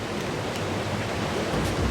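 A huge waterfall roars in a dense, unbroken wash of noise, loud and constant throughout.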